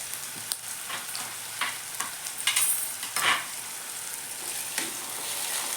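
Green chillies sizzle in a hot frying pan while fenugreek-leaf palya is being made, a steady close crackle with brief stirring scrapes and spatters throughout, no voices.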